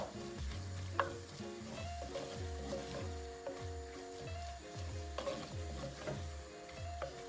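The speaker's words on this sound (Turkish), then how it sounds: "Bunları da bir taşım böyle kavuruyoruz birazcık." Red and green peppers sauté in clotted cream in a güveç clay pot: a soft continuous sizzle with rhythmic stirring scrapes about once a second, fairly quiet and close.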